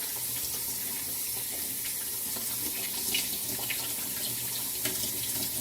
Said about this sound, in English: Just rinsing.